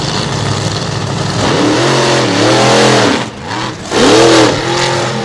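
Racing engines roar past at Lincoln Speedway in Abbottstown, Pennsylvania, loud and close, with rising and falling revs as cars sweep by, one after another, with a brief dip between passes.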